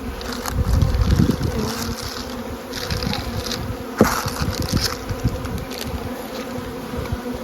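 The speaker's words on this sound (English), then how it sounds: "There's plenty of bees here" Honeybees buzz steadily in and around an open hive during a spring feeding round, a dense close hum with busy layered droning, louder swells near the start and a sharp knock of hive equipment midway.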